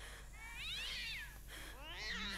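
Cats meowing in the horror video game Ju-On, two drawn-out rising and falling meows one after another, fairly close and clear over a low steady hum.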